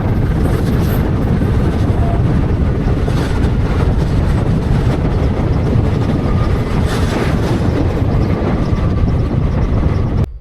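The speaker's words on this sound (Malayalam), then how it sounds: "ഞാൻ ഒരുപാട് യാത്ര ചെയ്ത ട്രെയിനാണ് ഈ ശബരി എക്സ്പ്രസ്." Sabari Express, express 17229 with ICF coaches, running at speed: a steady, loud, broadband rumble and rattle holds for about ten seconds, with no talk over it.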